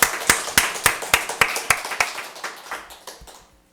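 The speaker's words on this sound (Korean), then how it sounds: "우리 하나님께 감사의 박수 한번 해주십시오." A church congregation at a Sunday worship service claps in thanks, a rhythmic series of sharp, evenly spaced claps that gradually grow softer and more scattered before fading out.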